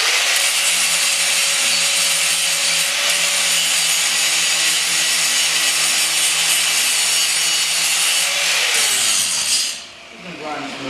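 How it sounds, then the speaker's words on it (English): A Parkside angle grinder grinds tack welds on a steel rear bumper, a loud continuous abrasive whine and rasp that runs steadily, then winds down near the end. "We're going to take the Parkside grinder from Germany."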